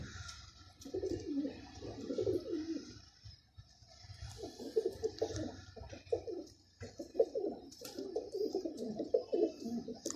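Teddy and Ferozpuri pigeons coo in soft repeated bursts, close by, with short pauses between rounds of throaty rolling calls and faint background hiss.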